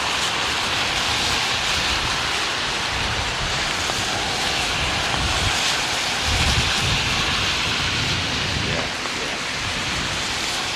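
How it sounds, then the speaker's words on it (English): A Virgin Atlantic airliner from London Heathrow lands at Mumbai with thrust reversers engaged, a loud, sustained roaring rush that fills the whole stretch with little variation. "it gives you an idea of just how these reversers work"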